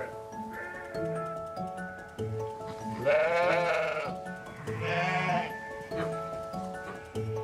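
Sheep on a farm during lambing season, several loud, wavering bleats from animals nearby, with quieter calls and low farm background between them.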